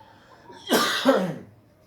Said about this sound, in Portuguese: É só uma tosse mesmo que eu tenho toda manhã.